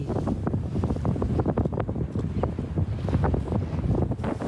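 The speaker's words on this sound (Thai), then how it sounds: "เป็นเรือแข่งขันระดับกลางปลีทรงสมรรถนะ แล่นไปด้วยความเร็วสูง" Mid-class high-performance racing sailboats speed along in strong wind, a steady roar of wind buffeting the microphone with rushing water and hull noise beneath, loud and continuous without talk.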